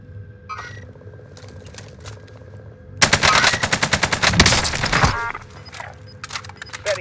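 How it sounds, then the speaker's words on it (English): Rapid automatic gunfire strikes the player during a multiplayer shooter match on Rebirth, a close, loud burst of about two seconds over quieter battle ambience and faint game sounds. "Shots are hitting me!"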